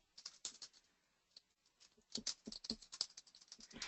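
Quick bursts of keystrokes on a computer keyboard, close and fairly quiet, come in irregular clusters with a short pause in the middle before a faster run of typing.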